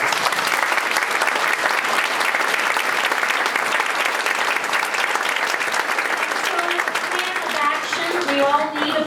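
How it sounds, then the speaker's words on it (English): Guests at an annual dinner give a sustained, loud round of applause filling the hall, with a voice rising over the clapping near the end. "I would like to give Dr. Adair and Bernadette a round of applause."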